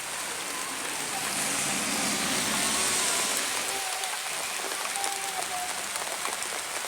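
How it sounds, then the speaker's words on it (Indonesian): Heavy rain pours steadily in the Indonesian countryside, a dense, constant hiss close by with scattered drops, a low rumble fading partway through. "Hujannya sangat besar."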